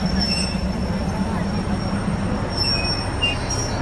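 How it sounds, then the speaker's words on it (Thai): A train arriving at a platform in Thailand rumbles steadily close by with low, continuous rolling noise and faint high-pitched squeals from the wheels. "ตอนนี้รถไฟก็เข้ามา เรียบชานชลานะครับ"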